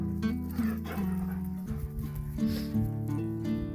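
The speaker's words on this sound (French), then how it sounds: "je vous montre tous les chiens" Several dogs at a home, heard as a steady run of whines and yips with tonal vocal sounds throughout, fairly close and clear with no talk over them.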